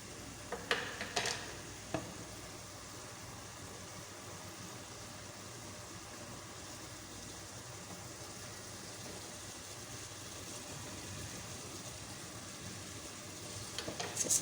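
Keema palak (minced meat with spinach) sizzling steadily in a pan as it is fried and stirred, a soft continuous hiss with a few clinks of the spoon at the start and end, no talking.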